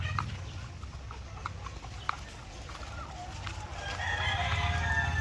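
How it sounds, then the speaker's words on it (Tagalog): A fighting rooster crows toward the end, a drawn-out call over steady low background rumble and scattered faint farmyard noises. "Ito ay mga manok panabong."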